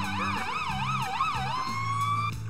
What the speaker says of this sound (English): That siren is terrible.